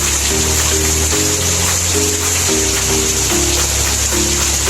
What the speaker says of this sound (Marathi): बघू शकता आमच्याकडचा पाऊस.